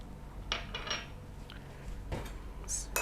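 Syrup with rose water and cardamom powder being stirred, producing a few close scraping and clinking strokes of a spoon against a metal pan over a low background hum, ending in a bright clink; no voices.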